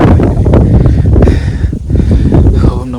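Strong wind on Velliangiri mountain roars in loud, continuous gusts, buffeting the microphone with heavy low rumble throughout.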